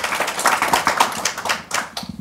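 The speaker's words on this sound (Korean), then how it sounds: "박수 한번 주시죠" Brief applause from an audience at a Korean civic forum and panel discussion, a short patter of clapping hands lasting about two seconds, close and moderately loud, with no voices over it.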